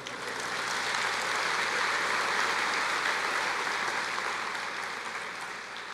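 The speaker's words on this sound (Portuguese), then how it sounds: "Você pode aplaudir o Senhor?" A church congregation applauds steadily during a sermon, sustained dense clapping that holds level for the whole stretch and fades slightly at the end.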